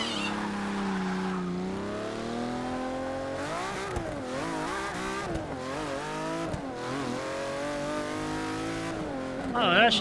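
A car engine in Forza Motorsport 6 revs and shifts through rising and falling pitch sweeps during a test drive, loud and continuous with a sharper burst near the end.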